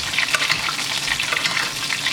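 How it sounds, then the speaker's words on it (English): A ribeye steak sizzles in a pan while being basted with butter, a steady close crackling hiss with faint spooning splashes running throughout the short stretch. "basting with all that fat, that butter."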